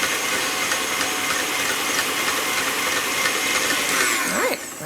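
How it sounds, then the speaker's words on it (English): An electric whisk on high speed blending runny vegan gluten-free donut batter, a steady loud whirring drone that holds for over four seconds and then cuts off with a falling pitch. "Let's give that a good whisk. Turn it on high for just a second."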